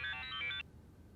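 A telephone ringtone plays a short bright melodic phrase for about half a second, loud and close, then cuts off abruptly into quiet room tone.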